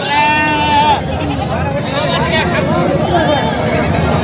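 A goat bleats loudly at the start, followed by fainter bleats amid a murmuring crowd and background chatter at a goat market in Parbhani.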